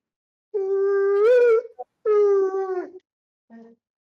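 Dog at an indoor strategy-game convention gives two drawn-out whimpering howls, rising and wavering, then a brief yelp, loud and close against a quiet background.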